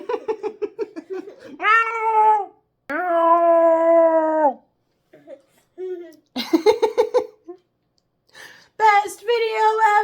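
A young child and an adult meow back and forth in cat imitation, voices mimicking the sound rather than a real cat, several short meows with pauses, close and clear, amid playful talk.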